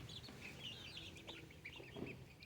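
Backyard homestead chickens, a rooster among the hens, give soft scattered clucks and higher chirping calls while dirt bathing outdoors, faint and close in a quiet setting.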